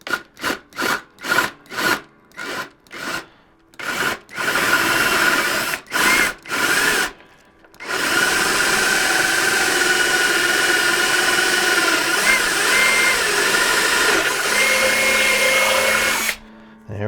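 A drill starts in short stuttering bursts, then runs continuously with a gritty whine as it bores through an acoustic guitar's wooden top, stopping abruptly at the end.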